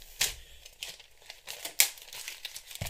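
Vinyl transfer tape being handled for an airbrush stencil gives off soft, close crinkling and crackling in irregular bursts, with a few sharper crackles and quieter rustles in between.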